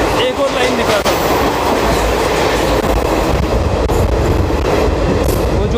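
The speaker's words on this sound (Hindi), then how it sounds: "अभी ट्रेन ने पिकअप अच्छा खासा पकड़ लिया है।" A Garib Rath express passenger train runs at speed on the Mumbai–Jabalpur line, with loud continuous rumble and rail clatter heard from on board.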